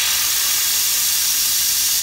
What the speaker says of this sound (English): And you want to do that hissing right away.